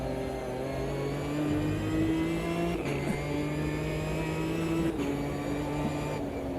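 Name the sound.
race car engine with twin 45 carburettor induction, AMS2 video game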